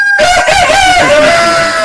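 Light Sussex hens and roosters on a hen farm crow loudly and close, a drawn-out cock-a-doodle-doo with clucking mixed in, filling the whole moment.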